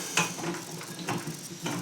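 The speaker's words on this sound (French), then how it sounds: "Je visse mon raccord." Metal pipe fitting screwed by hand onto a tube for a workshop boiler, giving a series of soft ratcheting clicks and metallic scrapes in short bursts, close and fairly quiet, with no talking.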